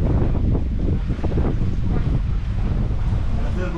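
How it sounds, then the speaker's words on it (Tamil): Strong wind blows across the microphone during a boat ride on a natural freshwater river, a loud, constant buffeting roar with faint water noise beneath it. "சூப்பராக காற்று வருது."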